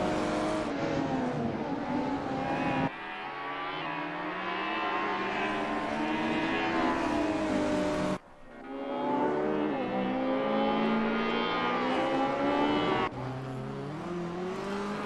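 Race cars, among them a turbocharged Nissan R31, accelerate hard through the Barnet Street chicane at Wellington in a sim racing game. Loud engines rise and fall in pitch through gear changes, with sharp cuts where the view switches.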